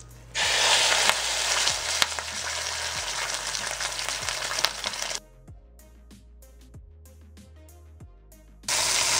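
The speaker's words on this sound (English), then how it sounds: "now that our oil's nice and hot here, we grab our beautiful piece of meat. Just look at this. My goodness. And we're going to sear this on all sides." A roast of meat seared in hot oil, a loud dense sizzle that roars for about five seconds, drops to quiet crackles and faint ticks, then flares up again at the end, close with no talk.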